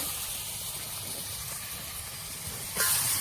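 Raw chicken dropped into a hot pan over a wood-fired clay stove gives a steady, close, broadband sizzling hiss that swells louder near the end, with no talking.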